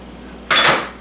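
A pot lid sets down onto a simmering pot of chicken breasts in one brief, bright metallic clatter that fades quickly into a low background hum.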